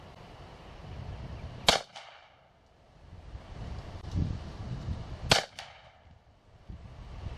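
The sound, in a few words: revolver and rifle gunshots at target range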